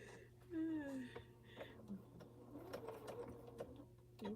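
A sewing machine back stitching through a pressed quilt, its motor whirring in short bursts, with a voice speaking nearby and soft handling noises between runs.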